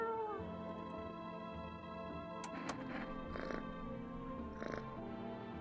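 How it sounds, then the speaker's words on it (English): A cat meows in the video game No I'm Not A Human, a few short calls over a steady droning game soundtrack, fairly close and clear. "What an ugly cat this is."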